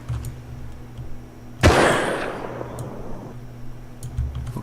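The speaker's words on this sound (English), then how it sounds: "Let's see if they react to gunshots now." A single loud gunshot rings out in the survival video game Rust, a sharp close blast with a long fading echo over quiet background ambience.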